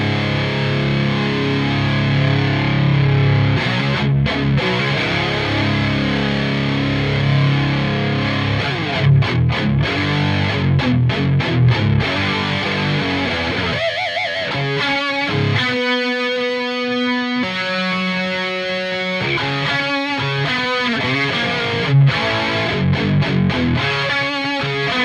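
A heavily processed guitar runs through a multi-effects unit, giving a loud, continuous distorted wash with chorus-like warble, stuttering gated passages and sustained tones over about twenty-five seconds, with no voice.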